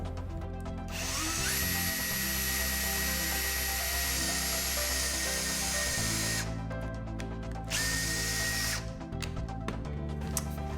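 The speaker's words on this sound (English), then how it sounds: "and I can drill a hole here." A drill/driver fitted with a drill bit bores a hole, its motor whining loud and close in one long sustained run, then a second shorter burst after a brief pause.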